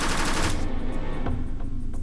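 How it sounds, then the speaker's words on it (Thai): Gunfire in a yakuza revenge film scene, a loud dense burst of rapid shots in the first half second, then scattered single reports under a steady rumbling background. "เสียงปืนนันสนั่นหวั่นไหวเลยนะครับ"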